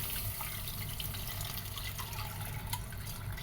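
Liquid pours steadily into a pan while cooking Malabar paal vazhakka, a soft continuous trickle and splash held at low level without speech.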